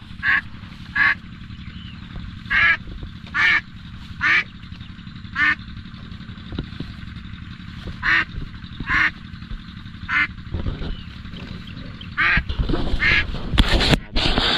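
A flock of ducks being herded quacks loudly and repeatedly in short bursts, close by. Later the calls blur into a busier clamour with rustling and movement.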